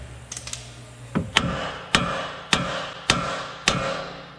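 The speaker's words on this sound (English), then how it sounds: "you're gonna wanna grab a hammer, you're gonna wanna hit it right here." Sharp metallic hammer blows strike the upper ball joint of a 2020 Ram truck, about six strikes at an even pace, close and loud with short ringing decay.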